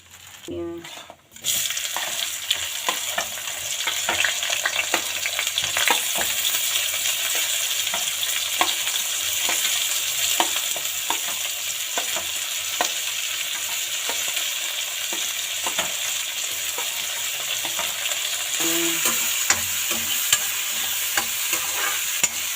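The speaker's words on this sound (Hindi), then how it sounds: "और तेजपात डाल दी हूँ। लौंगे में जीरा डाल रही हूँ, थोड़ा हींग भी डाल लेती हूँ।" Bay leaf, cumin and a pinch of asafoetida sizzle in hot oil in a pan for chickpea curry, a steady close crackling fry with occasional stirring scrapes, and no talk.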